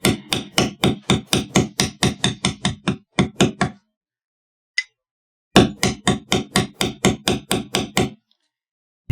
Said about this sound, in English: So first thing you got to do, though, is get them beveled.